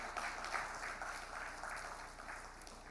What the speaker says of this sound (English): Please make him welcome with a round of applause.